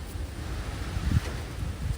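Strong wind buffeting the microphone, a steady low rumble with gusty swells and no one speaking.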